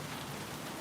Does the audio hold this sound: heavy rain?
yes